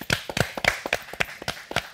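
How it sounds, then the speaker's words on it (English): A small live studio audience at a TV show claps for sponsors, a handful of sharp, close hand claps in a quick uneven rhythm of roughly four per second over two seconds. "let's just clap for your sponsors"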